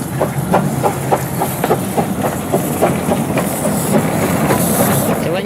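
A small narrow gauge steam locomotive running at a restored station in Bromyard, a loud steady rush of hiss and rumble with rhythmic wheel clicks on the rails, heard close and continuous.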